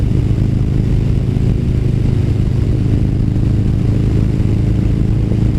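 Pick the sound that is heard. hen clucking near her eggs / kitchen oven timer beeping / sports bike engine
sports bike engine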